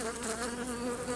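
Honey bees buzz at an opened beehive in an apiary. The drone is continuous and steady, with no talk for just over a second, and sounds moderately faint.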